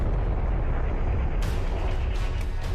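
A fireball crashing to Earth near a village in southern Peru, heard as a loud, sustained roaring rumble of an explosion with a sharper burst partway through, no talk.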